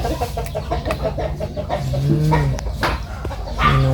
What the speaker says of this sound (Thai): เห็นอยู่บ้านนี่มีเสียงมาเสียงไก่รบกวนนี่เด้อจ้ะ